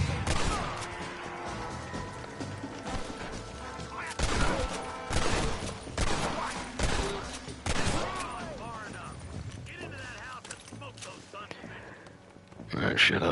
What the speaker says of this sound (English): I really like the gun sounds in the game